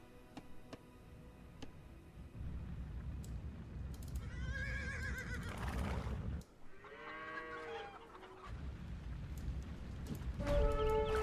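Horse whinnies from the Ottokar 3 game, two long harmonic neighs in the middle and a brief one at the end, over a steady low rumble of game ambience and hoof noise.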